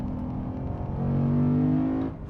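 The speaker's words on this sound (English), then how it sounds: "Oh, pure V8 supercar." A 2021 Lexus RC F Track Edition's V8 engine revs up hard on a race track, a loud, close, rising roar that peaks and then drops off sharply.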